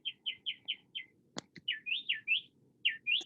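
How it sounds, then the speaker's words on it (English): Birds sing outdoors in the morning: a series of bright, quick chirps and rising whistled phrases, fairly close. Two sharp clicks break in partway through, over a faint low background hum. "those birds are happy to see you this morning, man"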